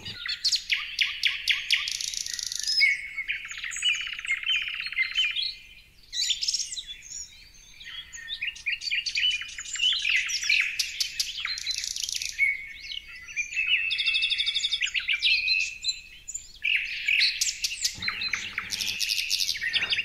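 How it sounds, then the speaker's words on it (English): Forest birds singing, bright, busy chirps, trills and whistled phrases from several birds overlapping almost without pause, fairly close and clear over a quiet background. "The beautiful birds whose songs weave the fabric of the forest"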